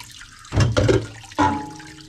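Water rinses the auger screw of a Kuvings CS700 slow cold-press juicer during cleaning, in two short splashing gushes with a brief pause between them, close and fairly loud, with no talking.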